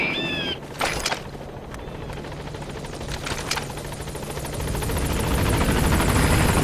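Helicopter arriving at a landing zone in the video game Metal Gear Solid V, a steady loud rotor roar that builds slightly, with a brief radio-style chirp at the start.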